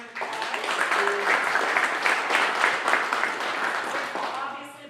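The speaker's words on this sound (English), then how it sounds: "Round of applause." Attendees at a county community event give a round of applause after a sponsor thank-you, a few seconds of steady clapping that swells and then tapers off.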